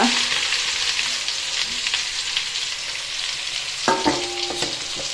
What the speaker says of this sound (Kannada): ಆಮೇಲೆ ಇದು ಬೆಂಡೆಕಾಯಿ ಹಾಕಿ ಫ್ರೈ ಮಾಡೋದು